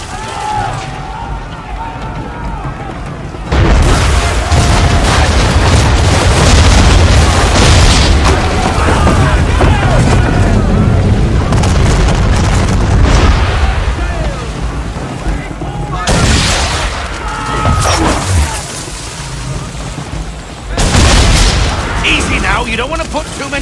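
Heavy ship cannons fire chain shot in Assassin's Creed III, loud booming blasts and rumbling volleys over a roaring sea-battle din, with people talking now and then.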